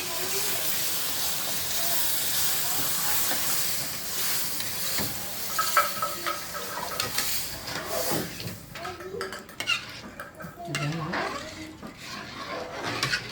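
Milk is poured onto semolina in a hot pan and stirred, giving a steady hiss and sizzle with scraping that later breaks into bubbling, irregular crackles. A voice speaks over the cooking.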